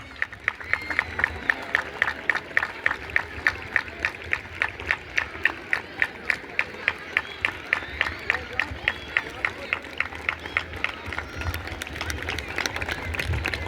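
A sports-day arena crowd claps in a steady rhythmic beat as a torch bearer enters, loud and continuous throughout, with a voice speaking over the applause.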